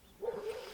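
Dogs barking in a park beside a lake, a short bark or yip heard at a distance and fairly faint against outdoor background noise.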